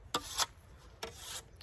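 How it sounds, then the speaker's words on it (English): A cutting tool sharpened by hand outdoors, two short close scraping strokes, one longer rasping pass, quiet and with no speech. "Just need to give it a sharpen though"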